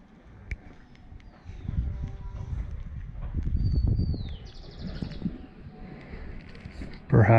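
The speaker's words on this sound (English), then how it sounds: "Perhaps some of the birds you can encounter in Villa de Leyva." Birds sing with scattered chirps and whistles in the colonial town of Villa de Leyva, Colombia, moderately near over a steady murmur of outdoor background noise.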